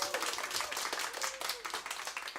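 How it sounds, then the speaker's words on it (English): Sparse, close hand claps ring out during an online talk show about digital ads, with a voice briefly audible alongside them. "I want to give you a hand clap."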